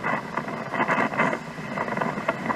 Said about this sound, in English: that's the sound of winds as Irma approached downtown Miami late Saturday